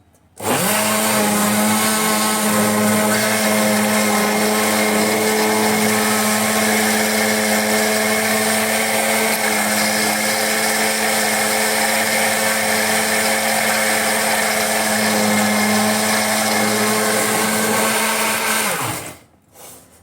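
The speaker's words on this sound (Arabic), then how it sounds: "عشان بس صوت الخلاط ما يضايقكوش" A blender runs loudly and continuously for nearly twenty seconds with a steady motor whine while blending cocoa spread with oil drizzled in, then shuts off abruptly.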